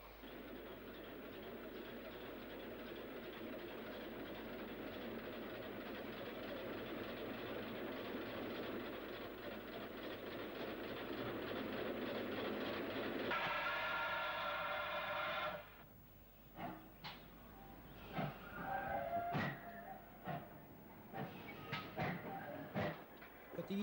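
Steam locomotive 6859 moves toward a 65-foot turntable in a Bristol railway yard, giving a continuous rumble with rhythmic clanking. A brief tonal squeal follows, then scattered clanks and knocks as the noise drops.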